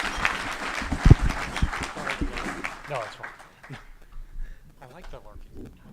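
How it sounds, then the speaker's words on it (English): A round of applause for a housing affordability panel at a Rotary Club of Tucson meeting, clapping mixed with voices early on, then fading out while talk continues over it. "Let's give them a round of applause."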